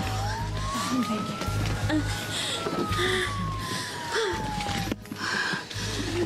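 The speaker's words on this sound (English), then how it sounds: "An ambulance just arrived at the front gate." An ambulance siren wails as the vehicle arrives at a front gate, a single rising and falling tone sounding moderately distant beneath a busy mix of background noise and some voice.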